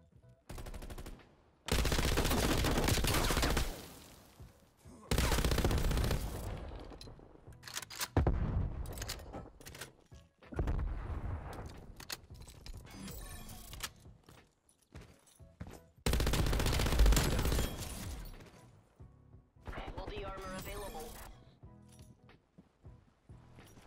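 Bursts of gunfire from the shooter Call of Duty: Black Ops Cold War, MG 82 machine gun on the Collateral map in Search and Destroy, loud sustained volleys separated by short pauses, with occasional quieter shots.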